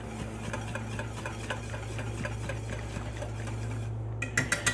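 Rich brown gravy stirred in a frying pan beside a pan-fried pork chop, a steady low simmering hum with soft scraping and faint clinks of a utensil against the pan, a few sharper taps near the end, no talk.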